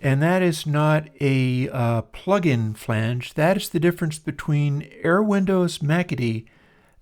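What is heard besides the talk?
No distinct noise like a dog, phone or traffic.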